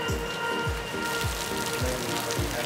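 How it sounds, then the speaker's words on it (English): Rain falling on surfaces outdoors on a golf course, a loud dense patter with a regular low thumping underneath, no voices. "At least it's not cold rain."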